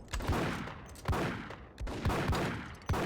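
Gunfire in a Max Payne gunfight: a handful of sharp, punchy shots at irregular intervals, close and loud, each followed by a short decaying echo.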